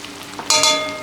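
Red chili powder and coriander powder hit hot oil in a pan, giving a sudden loud sizzle halfway through that keeps hissing steadily to the end, with no talking.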